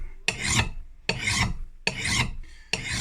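A metal file strokes across an axe bit held in a vise, four rhythmic rasping passes about a second apart, each a loud bright grind followed by a short gap, close up with no voices.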